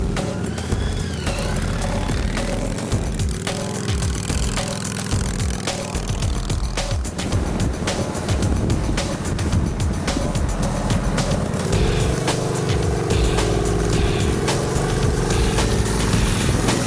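A custom motorcycle ridden on the road makes a loud, continuous engine drone with rough, crackling texture and shifting pitch, mixed with heavy wind buffeting and no voices.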